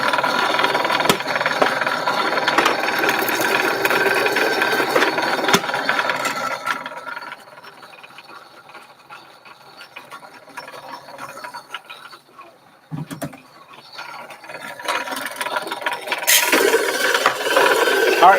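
A Compact R80 coffee grinder grinds dark roast beans, a loud steady mechanical whir that drops to a quieter stretch midway, a brief clunk, then ramps back up loud.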